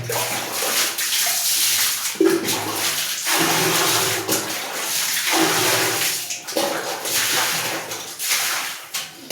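Cold water splashes and pours in repeated heavy dousings while bathing, each lasting a second or two, loud and close like scoops of water thrown over a body.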